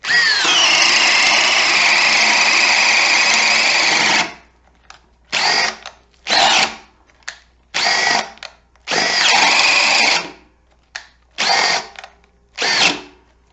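Loud cordless drill, a Milwaukee M12 Fuel or Makita 18V subcompact, whirs continuously for several seconds, then runs in a series of short, sharp bursts separated by brief silences.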